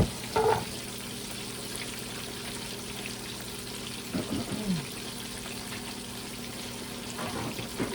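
Pork chops frying in a pan for smothered pork chops, a steady low sizzle close by with a few brief clinks and stirring noises.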